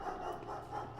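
A dog barking somewhere in the world of the video game Pathologic. It comes as soft, panting yips that stay faint and distant over a steady ambient hum, with no talk over them.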